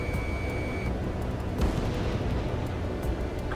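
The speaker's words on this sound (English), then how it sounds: "missile launch" Missile launch in the combat flight game Ace Combat 7, a deep rumbling roar with a sharp burst partway through, sustained and loud over continuous low engine noise, with no voices.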